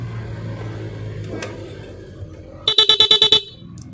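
A car horn driven by an interrupter horn relay blares in a quick series of about seven evenly pulsed honks, close and loud, after a quieter stretch of faint background noise.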